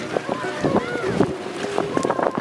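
Gusty wind buffets the microphone in a low, steady rush on a beach in Trinidad, while people talk nearby.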